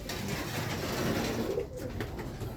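A racing pigeon during a derby race in Aparri, Cagayan, with soft pigeon coos and wing flutter close by over a continuous outdoor background hiss.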